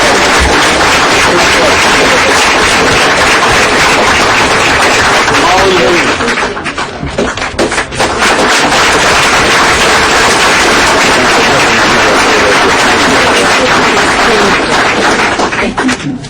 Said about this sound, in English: Come on, guys, round of applause.